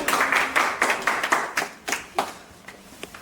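Scattered crowd clapping at a live-stream meetup in Perpignan, a burst of hand claps that thins into a few irregular claps and fades out.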